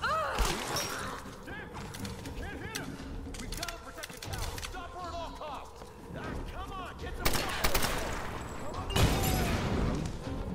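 Gunfire in the video game Tomb Raider, sharp shots and impact crashes scattered through a busy mix of game effects, moderately loud, with a couple of stronger bursts near the end.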